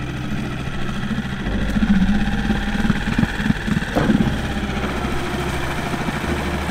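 Outboard motor on a small dinghy running at a low, steady idle close by, with a continuous engine rumble and slight variations in pitch.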